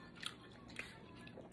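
Crunchy ripe jackfruit being bitten and chewed close up, a couple of soft crisp crunches against a quiet background.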